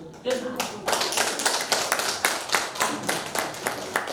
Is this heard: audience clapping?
yes